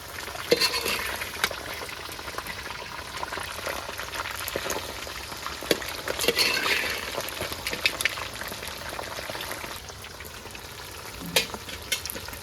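Mutton pieces for a pickle fry vigorously in a pan, producing a dense, bubbling sizzle that swells and eases, with occasional stirring clatter throughout and no talking.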